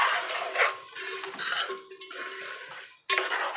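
Chicken curry fry being stirred in a pan, with a spoon scraping and clattering against the metal in repeated strokes, close and fairly loud, with brief pauses between them.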